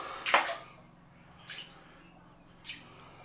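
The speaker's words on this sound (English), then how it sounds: "there we go four splashes and we're done" Three short splashes of water drop into a shaving soap bowl, a louder first splash followed by two softer ones spaced about a second apart, over a quiet background.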